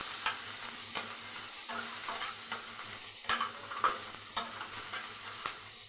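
Tomato, capsicum and green chili stirred in a pan for masala chicken kosha, with a soft steady sizzle and a series of light spoon scrapes and taps against the pan, close and fairly quiet.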